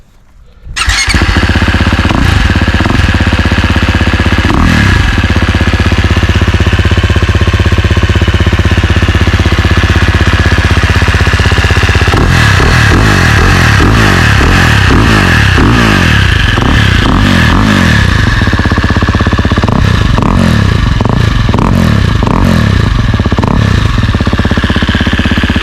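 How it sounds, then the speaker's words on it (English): A 2022 KTM 350 Six Days dirt bike with an Akrapovic full exhaust, ridden on hills, gives off a loud, close engine drone that breaks into a run of rising throttle revs through the second half, with no talking. "This is the Akrapovic, which was just installed. It is a full exhaust."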